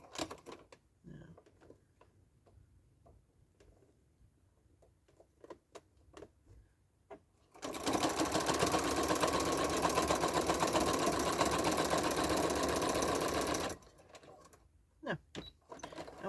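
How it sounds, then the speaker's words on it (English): Sewing machine running a single continuous burst of stitching while attaching fabric binding, loud and close for several seconds, framed by quiet handling taps and clicks before and after. "we're going to do our last bit of sewing here. Put back stitches."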